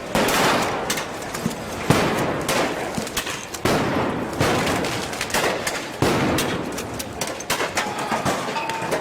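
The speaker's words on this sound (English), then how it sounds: "Maidan Square turns into a bloodbath with everyone shooting at everyone" Gunfire during the protests on Maidan Square in Kyiv: dense, continuous crackling shots and bursts, loud and echoing, with rapid overlapping reports throughout and no voices.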